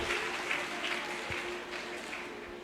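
A church congregation applauds its president during a Marian celebration for Our Lady of Lourdes, with a short, faint, distant patter of hands under a soft background hum.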